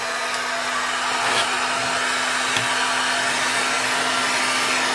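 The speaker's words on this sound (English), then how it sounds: "we simply take our heat gun and start heating it up" A heat gun blows steadily as it warms a Kydex sheet for a flashlight holster, a constant close airy roar with a low hum running through it and no talk.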